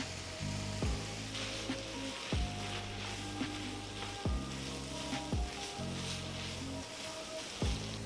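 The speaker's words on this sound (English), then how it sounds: "now that our meat is done, we're gonna add in our veggies" Vegetables sizzling in a pan alongside cooked cheesesteak meat for egg rolls, a steady frying hiss broken every second or so by a soft clunk and a brief dip, with no talking.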